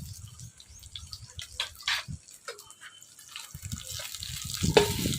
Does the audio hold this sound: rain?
no